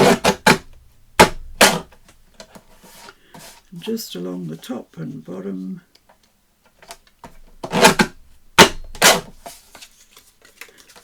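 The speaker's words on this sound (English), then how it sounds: "Sorry about the noise, I forgot I was using scissors." Sharp snipping bursts of scissors cutting paper, in quick pairs near the mic, with a person speaking briefly in between.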